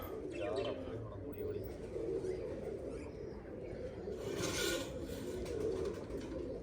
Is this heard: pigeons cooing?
yes